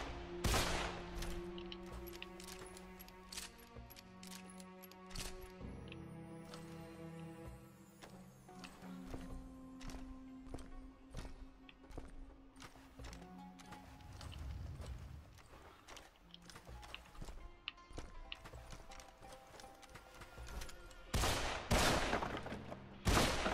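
Gunfire and mechanical clanks in the video game Deadfall Adventures, a busy run of sharp shots and impacts over game sounds and music, loud and dense, heavier near the end.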